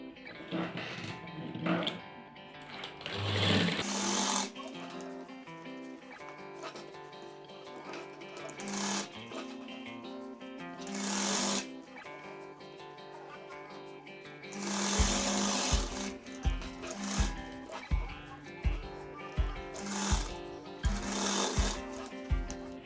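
A sewing machine attaches a separate piece onto a shirt, heard in intermittent short runs at first, then a sequence of rhythmic stitching bursts near the end, with clattering handling sounds between.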